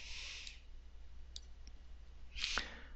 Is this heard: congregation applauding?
no